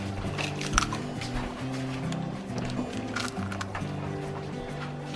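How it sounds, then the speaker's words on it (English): An egg is whisked with a fork in a bowl, making soft, wet squishing and sloshing sounds under steady background music. "Use a fork to whisk up the egg."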